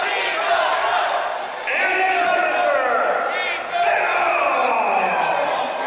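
A wrestling crowd reacts to a wrestler's entrance with loud, continuous shouting and jeering that swells and dips, filling an indoor venue.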